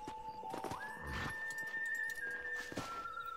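A horse in Red Dead Redemption gives a drawn-out whinny that rises and holds, close and clear, with hoof thuds and shuffling around it.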